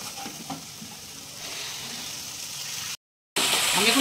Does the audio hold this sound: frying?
yes